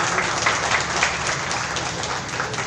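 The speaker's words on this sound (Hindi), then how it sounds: "अपने आप के लिए जोरदार तालियां बजाकर हम अपने आप का ही स्वागत करें।" A crowd at a release ceremony for a Diwali special issue applauds loudly: thick, continuous clapping with no break for the whole stretch.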